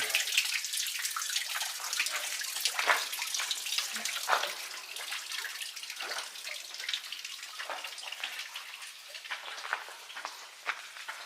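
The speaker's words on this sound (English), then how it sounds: "She loves the sound of running water." Continuous splashing and trickling of running water, steady and moderately loud, with scattered droplet-like spatters throughout.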